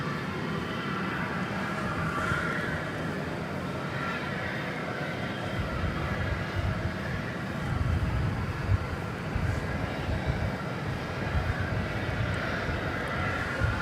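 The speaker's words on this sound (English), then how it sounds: "the China Airlines cargo is making a right-hand turn onto 18 left for takeoff to Anchorage." A China Airlines cargo plane taxiing onto the runway for takeoff at DFW Airport, a steady low jet engine rumble and whine heard from a distance outdoors, with light wind noise and no talking.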